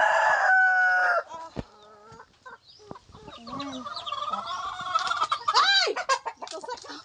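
Hens and roosters, including shamo chickens, cluck and crow loudly while being fed, with an opening crow followed by scattered clucks and squawks close by, and a person briefly speaking.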